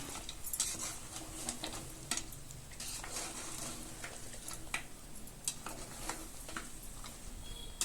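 Ground masala frying together with goat head and leg mutton in a pan, a constant close sizzle broken by frequent metallic stirring scrapes and clinks, with no talk.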